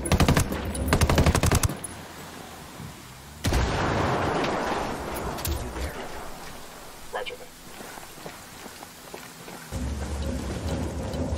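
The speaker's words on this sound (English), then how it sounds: "I'm shooting these folks." Automatic gunfire and explosive blasts in the tactical shooter game Ghost Recon Wildlands, with dense bursts of loud machine-gun fire at the start and a heavy boom midway, settling into scattered shots and a rumbling battle bed.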